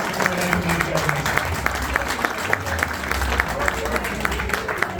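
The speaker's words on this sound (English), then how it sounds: "So a round of applause for all our ladies who do so much behind the scenes." Sustained round of applause from the audience at the BriSCA V8 40th anniversary awards night in 2024, a steady, dense wash of many hands clapping that fills the room without pause.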